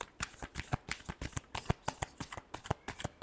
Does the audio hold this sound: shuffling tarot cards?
yes